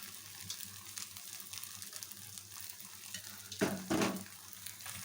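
Rava dosa batter fries on an oiled pan, giving a steady low sizzle with a brief louder hiss burst near the end; no voices.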